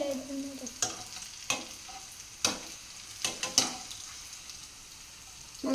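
Food sizzles in hot oil in a pan, a soft steady crackle broken by several sharp clinks and scrapes of a utensil stirring, close by and without talk.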